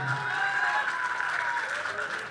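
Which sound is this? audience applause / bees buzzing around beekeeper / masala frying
audience applause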